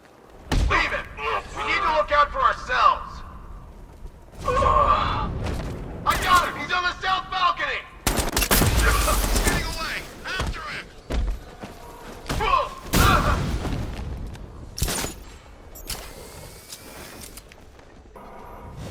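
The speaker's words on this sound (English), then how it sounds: "I'll shoot him down and see what happens." Batman: Arkham Knight gunfire, a series of loud thuds and sharp bursts breaking out in clusters across the stretch, mixed with game sounds and voices talking.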